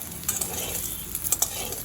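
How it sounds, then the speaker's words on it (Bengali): Bitter gourd slices frying in oil with salt and turmeric give a soft, continuous sizzle with light stirring scrapes and a few clinks of a spatula against the pan. "এবারে এই লবণ হলুদ দেওয়া অবস্থায় উচ্ছেটা খুব ভালো করে ভেজে নেব।"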